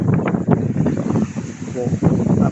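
Strong wind gusts of 40 to 50 knots roar across a sailboat running downwind with bare poles at sea, a loud, continuous buffeting rush with a voice speaking over it.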